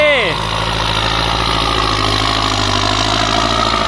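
A Kubota L5018 turbo tractor levels a rice field, its diesel engine running loud and close in a steady, heavy drone after a brief falling whine at the start.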